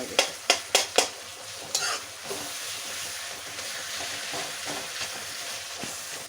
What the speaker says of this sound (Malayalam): തക്കാളി വെച്ചൊന്ന് ഉടച്ചു കൊടുക്കണം,